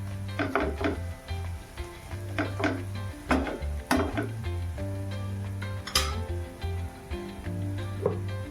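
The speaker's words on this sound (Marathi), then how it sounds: "परत त्याला 1 मिनिटभर परतायचं आहे. बेसनचा कच्चेपणा घालवायचा आहे आपल्याला." Gram flour being stir-fried in a pan on a low flame for a spinach curry, a steady low sizzle broken by repeated scraping and clinking of a spoon against the pan, with no talking.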